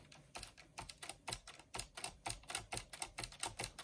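A Hermes Baby portable typewriter clatters with a quick, steady run of light mechanical key strikes, close and fairly quiet, with no voices.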